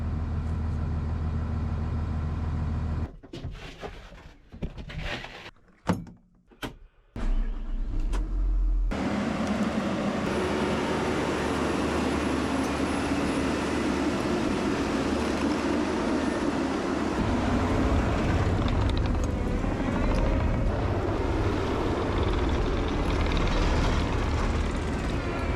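A tracked dump truck drives across a landfill. A steady, loud engine drone with grinding track rumble builds after a few seconds of broken, uneven noise, continuous and close.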